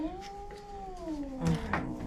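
A female cat yowls in a grooming salon, one long wavering moan that rises and falls over about two seconds, close and fairly loud, with brief rustling near the end.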